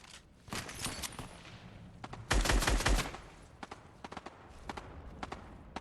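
Assault rifle fire in a video game played on a PS5 DualSense Edge: short, sharp bursts of rapid shots, with one dense, loud volley in the middle and lighter scattered pops around it.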